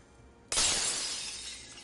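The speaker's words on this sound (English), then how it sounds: "Broken glass." Glass shatters in a single sudden crash in the Wuthering Waves video game, a bright burst of breaking shards that rings out and slowly fades, with no talk over it.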